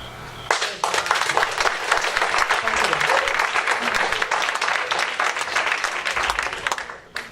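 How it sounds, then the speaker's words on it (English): Sustained audience applause fills a candidates forum hall, dense and steady for several seconds before tapering off near the end. "the extended clapping is going to take a little bit longer to get through the questions"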